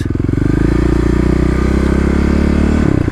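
Kawasaki KLX351 dirt bike ridden through a neighborhood street with its secondary throttle blade removed, a loud, close, steady engine drone with a rhythmic low-end pulse, holding nearly constant and dropping briefly near the end.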